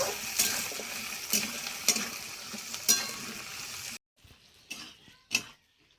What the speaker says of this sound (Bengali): কচুটা একটু ভেজে নেব।